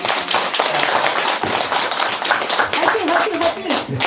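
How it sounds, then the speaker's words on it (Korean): A seated group at a Seoul meditation center claps in encouragement during a Buddhist teaching session; brisk, lively clapping continues throughout, mixed with voices talking and calling out over it. "그 모두 화이팅 하라고 박수 한번 주세요"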